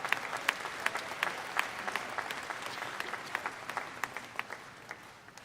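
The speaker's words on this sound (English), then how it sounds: "Let's give them a round of applause as they head out" Applause rises from the crowd at a livestock show arena at the Ohio State Fair as exhibitors leave the ring: a distant, quiet patter of many hands, with a few louder individual claps popping out near the end.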